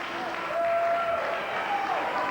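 A wrestling crowd at an independent show applauding with a steady wash of clapping and cheering, a commentator talking over it.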